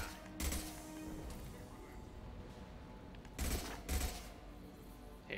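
Loud gunshot bursts from the video game Mass Effect 2 ring out twice in quick succession near the end, over a steady background of game ambience.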